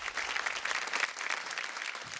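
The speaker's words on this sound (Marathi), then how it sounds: "जोरदार टाळ्या" Loud applause from a studio audience on a Marathi TV show, a dense, continuous clapping that stays strong and even from start to finish with no talking over it.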